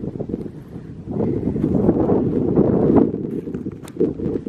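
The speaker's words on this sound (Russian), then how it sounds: "Дует холодный ветер." Cold wind buffets the microphone on a sunny hillside by a crater lake and glacier in Armenia, a steady, low roar that swells louder through the middle and stays constant, with no voices.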